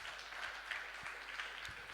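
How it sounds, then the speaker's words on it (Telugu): A church congregation at a prayer camp claps together in a steady patter of many hands, soft and somewhat distant, with no voices over it. "ఈ క్యాంప్ నాకు ఆశీర్వాదకరంగా ఉంది అన్నవారు ఒకసారి చప్పట్లు కొట్టి దేవుని మహిమపరుస్తా"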